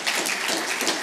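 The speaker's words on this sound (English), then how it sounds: "let's give her a round of applause" An audience applauds, a brief burst of dense clapping heard close and fairly loud, with no voices over it.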